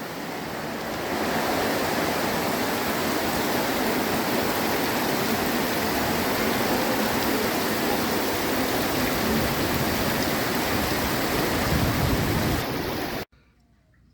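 Heavy rain pours outside on a camping trip aboard an electric sailboat in the 1000 Islands, a dense, steady hiss filling the scene for about twelve seconds before cutting off abruptly, with no voices.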